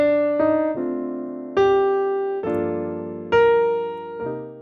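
A melody is played on piano with heavy accents on the downbeats. About six sustained notes and chords are each struck firmly and left to ring, with no talk.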